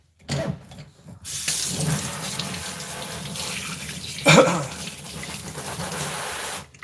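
Cool water from a tap pours steadily over a dog during a rinse with the Chris Christensen bathing system, a continuous close splashing rush with a brief louder gush midway and faint talk underneath.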